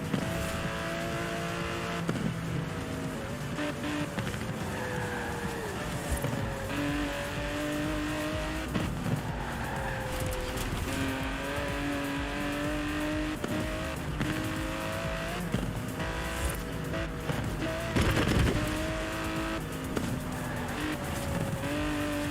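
Aston Martin DB11 engine in Forza Horizon 4, a steady drone that rises and falls through gear changes with tyre squeal and skids, loud and sustained throughout the drive.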